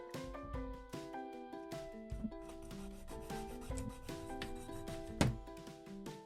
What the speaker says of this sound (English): Make a mark right there, and then we're just going to cut it.